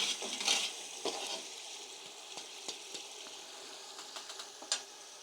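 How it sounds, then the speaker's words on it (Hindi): A spoon stirs rice and peas for pea pulao in a pot, scraping along the sides, with soft irregular scrapes and light clinks over a faint sizzle, close and fairly quiet, no voices. "जब भी आप चम्मच चलाया करें तो कोशिश ये करें साइडों से चलाएं।"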